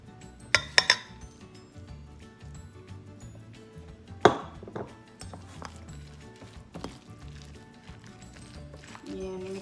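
Utensil scraping and clinking against a bowl while imitation crab meat is stirred in with mayonnaise for baked sushi, with a few sharp knocks, busy low kitchen clatter and a voice talking throughout.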